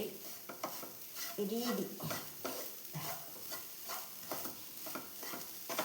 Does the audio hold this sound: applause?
no